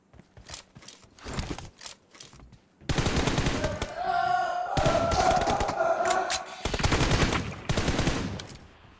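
Rapid automatic gunfire in a team deathmatch shooter game: a few sparse shots, then loud sustained bursts of fire with brief gaps between them.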